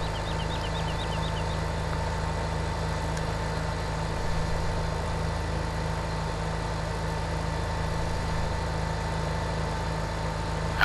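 Wheeled tractor engine on a row crop planter in Farming Simulator 17, a steady low idling drone with a constant mechanical hum, held level and unbroken throughout.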